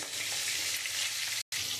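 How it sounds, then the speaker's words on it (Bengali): Continuous hiss and crackle of fish frying in hot oil until reddish-brown, steady throughout with a brief silent gap near the end. "আমি একটু লাল লাল করে মাছটা আমি ভেজে নেবো"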